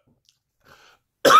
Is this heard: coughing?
yes